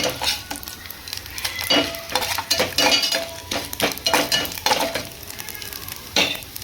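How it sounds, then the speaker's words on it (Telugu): Tempering spices sizzle in hot oil while a utensil stirs and clinks against the pan, a close, busy crackle with repeated metallic taps and scrapes. "చూసారు కదా, వేగిపోయింది పోపు."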